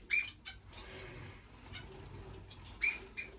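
Small finches chirp in an indoor bird room, a few short, bright tweets standing out near the start and again near the end over a soft, steady room hum.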